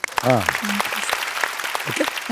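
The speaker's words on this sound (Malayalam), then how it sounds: "അതിന് വലിയൊരു കൈയടി" A studio audience claps for a singer on a Malayalam TV singing competition, a modest burst of applause running beneath a speaking voice.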